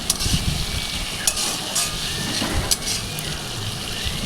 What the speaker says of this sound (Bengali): টমেটো কুচিটা দেওয়ার পরে ভালো করে নেড়ে নিয়ে